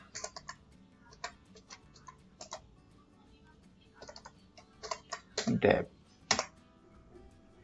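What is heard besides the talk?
typing a command on a computer keyboard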